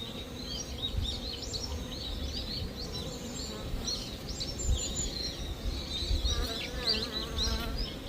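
Honeybees buzz steadily around beehives on a small farm, a dense continuous hum with a few faint bird chirps above it.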